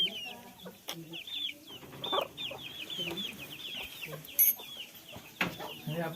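Village hens and small chicks cluck and peep in short, scattered calls nearby, with someone talking softly in between.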